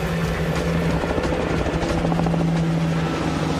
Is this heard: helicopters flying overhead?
yes